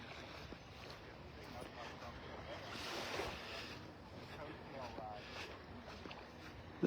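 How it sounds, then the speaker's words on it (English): Small, calm ocean waves lapping on Vanderbilt Beach in North Naples, Florida, a steady soft wash with gentle swells under light wind noise, fairly quiet and continuous. "Just a few little waves lapping"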